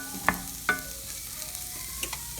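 Black beans tumble into a hot pan of garlic and onion, sizzling steadily, with two sharp clinks early on as they go in and get stirred. The frying hiss stays constant underneath.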